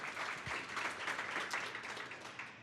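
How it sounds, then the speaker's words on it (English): An audience at a product talk event applauds steadily, a dense wash of clapping that holds moderately loud throughout without any voices. "let's give them a round of applause for offering this to us every month"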